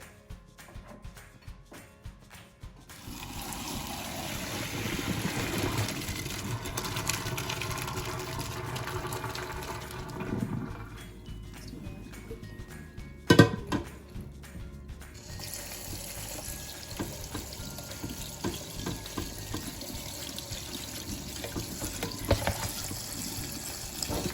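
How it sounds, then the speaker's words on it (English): Cooked pasta drained in a kitchen sink and rinsed under a cool running tap, a steady close splash of water that starts after a quiet moment, pauses briefly midway with a clunk, then runs on again. "I'm going to take this over to the sink and drain it, and then I'm gonna rinse it in some cool water"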